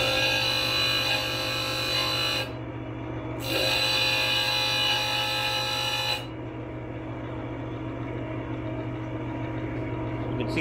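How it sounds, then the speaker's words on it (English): Power sander grinding down the edges of slotted extruded aluminum pieces in a garage, a steady loud whine running almost continuously for the first six seconds with a brief dip, then cutting off to a quieter hum. "I'm going to have to use the sander to cut the edges down just a little bit"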